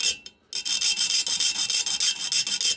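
Thin file widening a string slot in the nut of a Harmony H180 acoustic guitar, quick close rasping strokes in a steady back-and-forth rhythm after a short pause.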